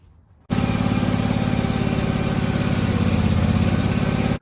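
A Barreto tracked trencher's small engine roars to life after a brief quiet moment, then runs loud and steady at close range as the machine is backed onto a trailer. No one speaks.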